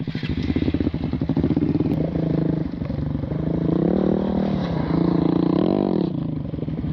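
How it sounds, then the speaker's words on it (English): A Honda Grom motorcycle spins through a full 360 drift at an outdoor stunt meet on a hot day, its small engine buzzing loudly and close, the revs rising and wavering as the throttle is worked through the turn. "I'm going to do a full 360 drift"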